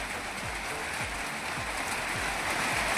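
Heavy unseasonal rain pours onto an onion field, a dense, steady wash of noise close by, with low thuds and rumbles of wind beneath and no voices.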